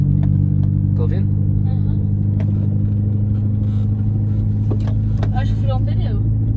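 A Mini Cooper R56 rated at 250 hp drives at speed with a punctured tyre, giving a steady loud low road and engine rumble inside the cabin, with people talking over it.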